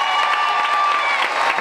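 Concert audience at a show in Saint-Joseph applauding and cheering, a dense steady wash of clapping and crowd noise throughout, loud and close, with no speech.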